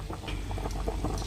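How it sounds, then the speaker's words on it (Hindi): Water boiling in a pot before rice goes in for fish pulao, a close, continuous bubbling with irregular popping blips and a low rumble underneath, heard alone. "पानी को बॉयल होने देते हैं जी।"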